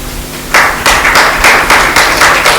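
Audience applause at a spiritual gathering, a guru's birthday celebration and initiation event in Noida, 2012: a burst of group clapping starts abruptly and continues in rhythmic, loud waves for a couple of seconds.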